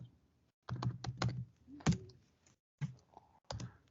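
Keys clack on a computer keyboard in short bursts, a few quick taps followed by pauses and a couple of isolated strikes, close and fairly quiet with no talking.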